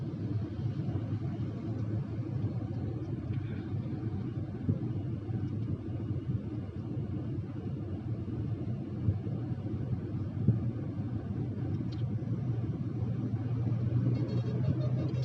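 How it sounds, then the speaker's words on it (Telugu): A car engine runs at a steady low drone during a driving lesson, a continuous rumble with faint road and wind noise and no distinct gear changes. "సౌండ్ మారుతోంది, ఎక్కువ అరుస్తోందంటే నెక్స్ట్ గేర్ షిఫ్ట్ చేసుకోవాలని, హైయర్ గేర్కి"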